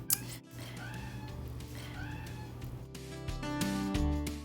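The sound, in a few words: pet cat meowing in the background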